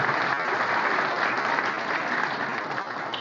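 Warm applause at a formal ceremony in Buenos Aires's Palacio Barolo, honouring the performers of the Paraguayan national anthem, a full, even burst of clapping from a seated audience that holds steady throughout.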